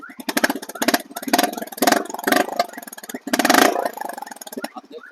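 A Honda CB 350 motorcycle with about 30,000 km on it idles close by, its deep, throbbing exhaust pulsing in uneven bursts with a couple of brief swells, with no voices.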